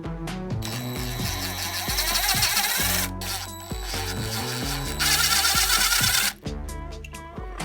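Bolts on a Camaro suspension spring are loosened with a ratchet or power tool, giving repeated close mechanical whirring and clicking bursts with short pauses between them.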